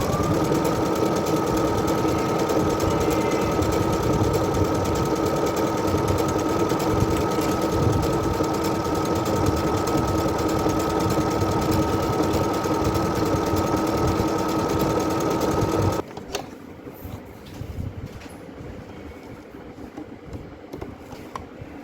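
Brother DS1300 computerised sewing machine stitching, a loud continuous close whir for about sixteen seconds that then stops, leaving quieter room sound.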